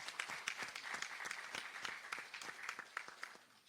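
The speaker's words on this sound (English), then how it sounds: "Please give a round of applause to all these global partners" Conference audience at an SDGs opening session applauds global partners, a faint, distant wash of many hands clapping that holds steady and then thins toward the end.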